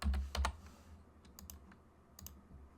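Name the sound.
typing on a computer keyboard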